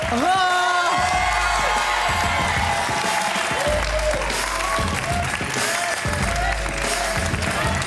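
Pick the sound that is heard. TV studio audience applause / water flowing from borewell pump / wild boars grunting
TV studio audience applause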